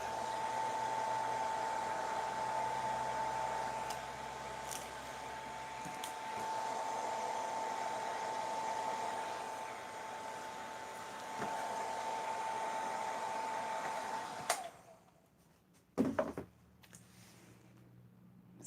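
A heat gun blows a steady hot-air roar as plastic shrink wrap is heated around soap bars. It runs continuously near the microphone, then cuts off, leaving a few small handling knocks.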